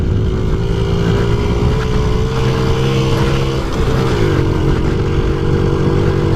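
Small single-cylinder engine of a 1993 Honda Z50R minibike runs steadily close by under a heavy rider, pitch holding, dipping briefly, then settling again, with no talk.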